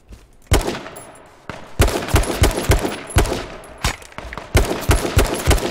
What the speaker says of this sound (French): Ça par contre, ce gros pchit, c'était son casque.